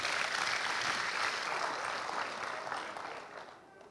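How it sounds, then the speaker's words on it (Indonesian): An audience applauds at a stunting-prevention talk show and award ceremony in Indonesia, a dense, steady wash of clapping from many hands that slowly fades out over a few seconds. "Ya, tepuk tangan dulu untuk adik-adik kita."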